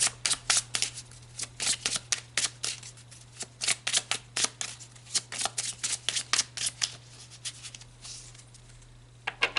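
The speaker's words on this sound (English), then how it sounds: "let's pull some cards to clarify this side" Tarot cards being shuffled by hand, a rapid series of close, crisp riffling bursts in an uneven rhythm, with no talking over them.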